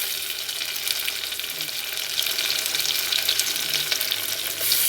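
Tomatoes fry in a pan for chicken dum biryani, a steady close broadband sizzle with soft crackling, continuous and fairly loud for the whole stretch with no voices.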